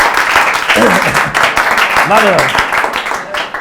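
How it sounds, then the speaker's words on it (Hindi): An audience at a public school event claps loudly in a busy, irregular burst, with voices talking and calling out over the clapping throughout. "ताली लगाओ ताली लगाओ जोरदार ताली लगाओ"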